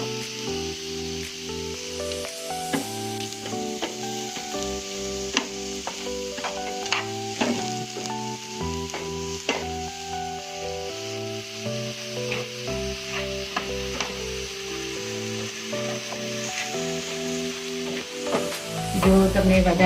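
Ingredients with a cinnamon stick sizzle in a pan while being stirred continuously, a steady close frying hiss with scraping strokes throughout, under background music.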